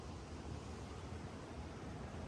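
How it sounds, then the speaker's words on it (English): The Pecos River runs low in a dry snow year beside a wilderness camp at dusk, giving a steady, broadband rushing wash of flowing water that stays even and continuous with no voices. "next to this beautiful Pecos River."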